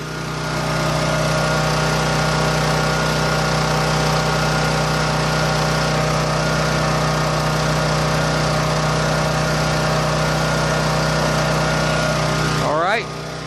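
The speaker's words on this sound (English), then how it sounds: "this is a computer safe generator, so I don't know how well you can hear it. It's fairly loud." A Champion dual fuel generator engine runs loud and steady at a constant hum with a strong low drone, close by, before a brief sweeping change near the end as it winds down.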